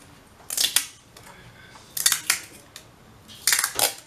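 Three separate bursts of crisp snipping as scissors cut wide clear tape to size, each burst made of a few quick close cuts with quiet pauses between them.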